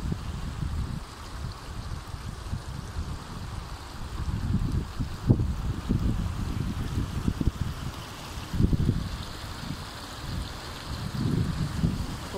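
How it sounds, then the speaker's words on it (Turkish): A small stream flows through an olive grove on a Lycian Way hiking route near Üzüm İskelesi, a steady low rushing of water with gusty wind buffeting, alone with no voices. "Küçük bir dere var, dere akıyor."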